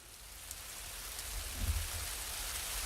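Rain falls steadily on surfaces in the City of London, a soft continuous patter with a few closer drops and a low rumble partway through.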